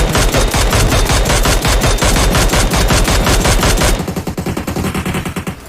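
Loud, rapid machine-gun bursts in PUBG Mobile hammer away in a fast, regular rhythm, then continue more faintly and sparsely as the firing tapers off.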